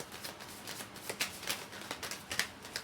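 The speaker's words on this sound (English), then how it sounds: "Let me just grab a card or 2." Tarot cards being drawn and shuffled from a deck: a quiet run of soft, papery flicks and snaps, close up and irregular, with no talking.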